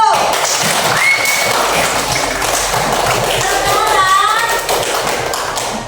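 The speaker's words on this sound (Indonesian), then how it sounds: "Tepuk tangan buat kelompok 1" Students in a classroom clap for a presenting group, a steady stretch of many hands clapping close and fairly loud with a few voices and whistly cheers over it, fading slightly at the end.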